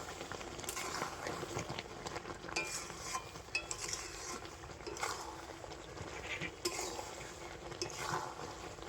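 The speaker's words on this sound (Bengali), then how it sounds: "ভাজা মশলা দিয়ে আবার একটু এইভাবে নাড়াচাড়া করে নেব" Raw mango pickle mixed with roasted spice is stirred in a pan, producing soft repeated scraping and clinking of a spoon against the metal, with a faint sizzle underneath and quiet intermittent clatter.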